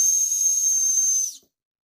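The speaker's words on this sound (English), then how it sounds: "This is supposed to be one of them self-defense whistles." A small plastic self-defense whistle gives one steady, shrill tone lasting over a second before cutting off abruptly into silence, fairly quiet rather than piercing.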